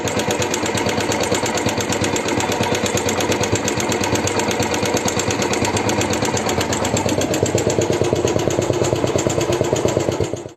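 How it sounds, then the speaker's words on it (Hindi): A motorcycle engine runs loud and close with a rapid, steady mechanical clatter like tappet noise, a continuous rattling beat that holds for the whole stretch with no talking. "वो इंजन का नॉइज़ बहुत ज़बरदस्त आ रहा था। वो मैं एक बार आपको सुना देता हूँ।"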